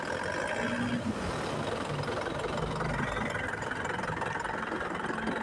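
An Isuzu Panther 2.5 diesel engine with its air conditioning running is revved hard after a compressor pulley bearing repair, giving a steady, loud, close mechanical drone that rises and falls slightly with no talking.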